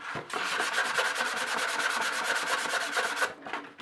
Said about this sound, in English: you can just use a little sandpaper and smooth those edges out